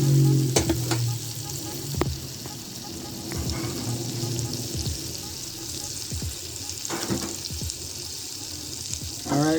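Butter and oil sizzle steadily in a hot skillet before pork chops go in, a close, continuous hiss broken by a few utensil clicks and scrapes, with a voice briefly heard.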